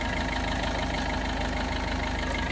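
A used car's engine idles quietly, a steady even hum with a faint regular pulse that runs unchanged and close throughout, with no voices.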